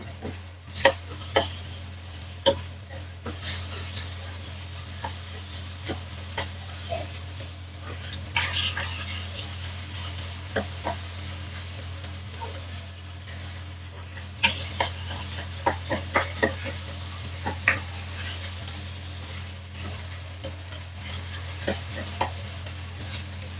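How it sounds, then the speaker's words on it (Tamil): Onions and potatoes fry in a pan for a vegetable string hopper kottu. A utensil stirs them with irregular scraping and clinking strokes over a low, constant sizzle, with a brief burst of heavier stirring near the middle. "உருளைக்கிழங்கையும் இதோடு சேர்த்து நல்லா கலந்து விட்டு கொள்ளுவோம்"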